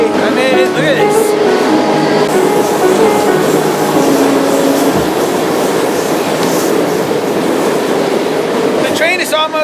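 A freight train rolls along near Sandpoint, Idaho, heard from aboard a car while trainhopping: a loud continuous rumble and rattle of wheels and couplings throughout, with squealing metallic tones at the start and end.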